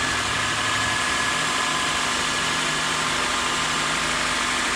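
A 7th-generation Honda Accord engine idles roughly and weakly after being restarted, a steady close rumble with low vibration and no talk over it.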